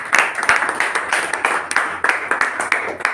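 Audience applause from a crowd at a Hindi-language motivational talk, steady dense clapping that rolls on for the whole stretch with small swells, fairly loud and close, with no speech over it.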